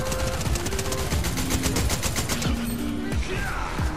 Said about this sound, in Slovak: Strieľam.